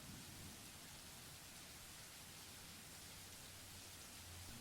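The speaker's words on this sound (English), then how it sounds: "Rain falls in fast," Heavy rain falls in fast, steady sheets, a dense, even hiss that continues unbroken and is heard alone with no voices.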